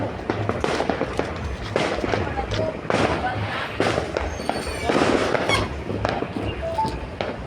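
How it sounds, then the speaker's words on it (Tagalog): Repeated sharp bangs and crackles from New Year's firecrackers in the Philippines pop irregularly through the clip, mixed with crowd noise and scattered voices in the background. "Lagi may paputok dito."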